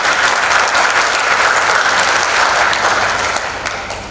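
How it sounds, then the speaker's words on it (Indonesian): A crowd applauds loudly and steadily, a dense wall of clapping that holds for several seconds before beginning to taper off. "Kita beri tepuk tangan untuk dia."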